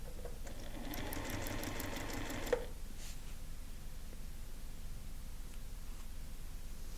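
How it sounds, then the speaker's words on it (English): A sewing machine runs in one steady, fast burst of stitching for about two seconds as a paper-pieced quilt block is sewn along its long side, then stops, leaving quiet room noise. "So I just go to my machine and I'm stitching down the long side"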